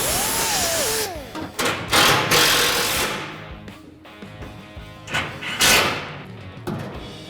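Grinding on the upper edge of a truck bed part for a 1967-1972 Ford F100/F250 short-bed conversion, heard as loud close bursts of harsh grinding that start, stop and resume over a few seconds.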